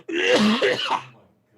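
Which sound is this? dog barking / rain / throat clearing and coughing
throat clearing and coughing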